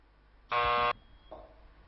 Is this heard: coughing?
no